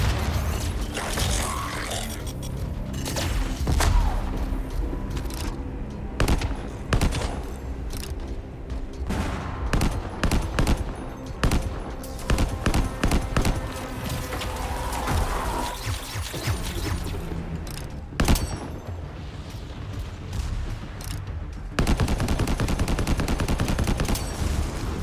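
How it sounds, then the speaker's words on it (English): An auto sniper rifle firing in the game Anthem, loud repeated shots in steady bursts with mechanical clanks and booms throughout, heavy and continuous for the whole stretch. "Auto sniper rifle."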